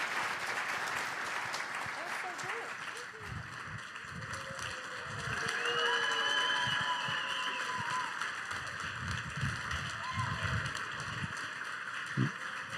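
A luncheon audience at a fundraiser applauds, dense sustained clapping that swells in the middle and carries on steadily without a break.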